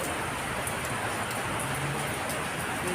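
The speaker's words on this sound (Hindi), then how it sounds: "3 दिन से लगातार 3 दिन से बारिश हो रही है हमारे यहाँ।" Steady rain falls through a wide, even hiss during a three-day downpour under heavy clouds, with a faint low rumble underneath and no talking.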